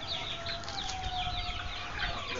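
Goliath chicks clucking and peeping in cages on a chicken farm in Africa, a dense steady chorus of high chirps over a constant low hum, with no pause across the moment.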